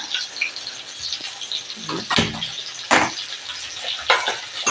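Shallots and garlic sautéing in a pan for a Tamil vatha kuzhambu, a soft crackling sizzle with a few sharper stirring clatters, close and steady, no voices.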